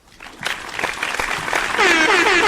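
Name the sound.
applause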